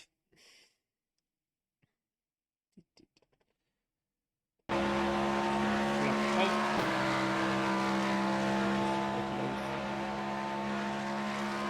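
Cadillac GTP race car on the Monza circuit in iRacing: after a few seconds of near silence with faint clicks, the engine cuts in loud and steady, a high droning whine that holds evenly to the end.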